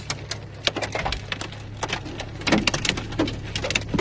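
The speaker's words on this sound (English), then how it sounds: "It's sounding about hailstones." Hailstones patter and crack on surfaces around riders sheltering under trees in the Alps or Pyrenees, sharp scattered impacts of varied strength over a low steady hum, close and irregular, with no talk.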